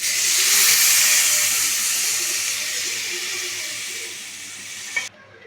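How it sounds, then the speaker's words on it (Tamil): Dal with tomato, salt and turmeric simmers in a pan and gives a loud, steady sizzling hiss that fades slowly. It cuts off abruptly near the end. "இது நல்லா கொதிக்கட்டும்."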